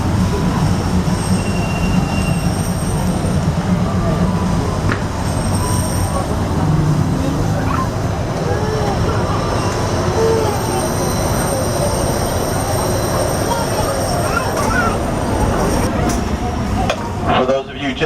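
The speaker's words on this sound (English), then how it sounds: "welcome aboard the Disneyland Railroad" The Disneyland Railroad train rolls along its rails with a continuous rumble, clacking and intermittent metallic wheel squeals, with people talking quietly in the background throughout.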